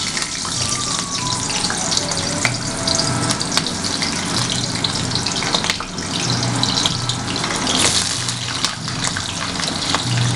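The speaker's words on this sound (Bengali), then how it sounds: "এবারে আলু আর ফুলকপিগুলো ভাজা হবে লাল লাল করে" Potato and cauliflower pieces fry in hot oil in a wok, a loud, dense, continuous crackle and hiss with a few sharp clicks and scrapes scattered through it, no voices.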